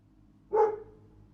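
A single sharp dog bark rings out once, close and clear against a low droning background, as a sound effect in a forest horror story about Bigfoot.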